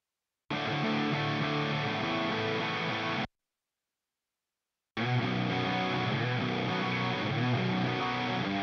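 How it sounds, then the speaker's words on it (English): Four tracks of electric rhythm guitar in a reggae rock mix play as a loud, steady, slightly distorted strummed wash, stopping for about a second and a half before resuming. "let's hear the rhythm guitars"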